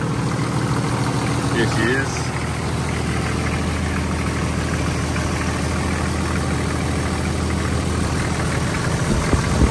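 A Toyota 80 Series Land Cruiser engine idles with a Radius Fabrication airbox fitted, a steady low rumble running throughout at close range, with someone talking briefly over it.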